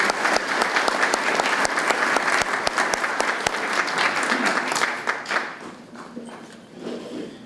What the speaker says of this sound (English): Give them a great applause.